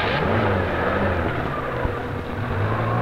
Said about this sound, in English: This Chevette with hood removed is moving through extreme water conditions in a car wash